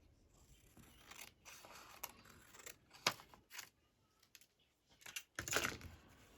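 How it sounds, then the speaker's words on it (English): Scissors trim craft material in a quiet room, a handful of short, crisp snips spaced irregularly with near-silence between cuts. "So I just need to eyeball it and trim it down a little bit."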